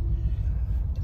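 A car rolling through heavy traffic on adaptive cruise control, a steady low road rumble heard from inside the cabin, with no distinct events.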